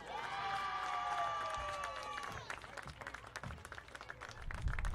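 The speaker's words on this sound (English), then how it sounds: "Let's give all of these outstanding student athletes one more round of applause." A softball crowd at an NCAA Southeast Super Regional game applauds the student athletes, with cheering and shouts over clapping under a sustained tonal sound early on, fading into scattered claps and crowd noise.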